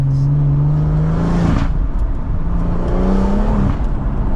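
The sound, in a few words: 3-litre straight-six car engine revving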